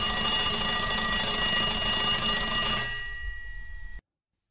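Telephone ringing on an outgoing call to a London Heathrow Airport transport information line, a loud steady electronic ring that sustains for about three seconds and then fades out before cutting off.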